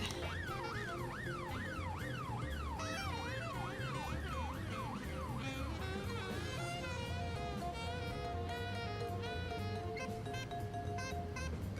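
Police car siren in the video game This is the Police wails loudly, sweeping up and down in fast repeated cycles before shifting to a yelping pattern, sustained and close throughout with no voices.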